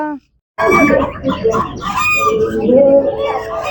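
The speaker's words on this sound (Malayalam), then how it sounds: "നല്ല അടിപൊളി ഭംഗിയുള്ള കോഴി അത് കോഴിയാട്ടോ" Rooster crowing loudly and repeatedly close by, with clucking and other birds around, in an outdoor yard at a family home after a power cut.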